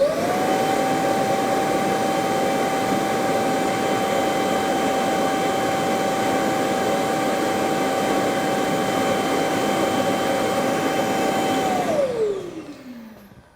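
A Milwaukee wet/dry vacuum runs loud and steady with a sustained motor whine, then winds down near the end as it switches off.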